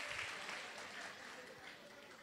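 An audience clapping during a Christmas service sermon, a soft, dense, continuous patter of applause that holds steady throughout, heard faintly in the room.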